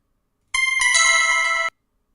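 A trading platform sounds its order notification: a bright, ringing electronic chime with a couple of quick stepped notes, lasting about a second, loud and alone against silence.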